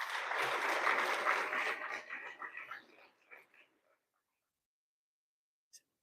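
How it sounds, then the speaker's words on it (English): A graduation ceremony audience applauds, a full crowd of clapping that thins and tapers away into silence, with a faint murmur of voices. "One more round of applause, please."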